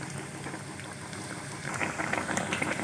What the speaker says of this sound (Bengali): এবারে এগুলো আস্তে আস্তে ভেজে নেব।